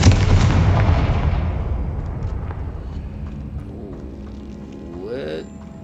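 Confringo fire spell blast in Hogwarts Legacy: one loud burst of explosive roar at the start that rumbles and fades over several seconds, with faint tonal game effects near the end.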